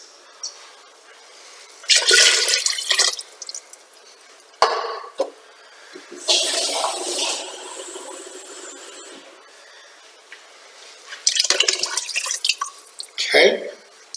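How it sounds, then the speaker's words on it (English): Liquid is poured into a pot of cabbage roll soup in several short bursts of splashing and trickling, close by, with quiet gaps between pours. "I'm going to add some more liquid"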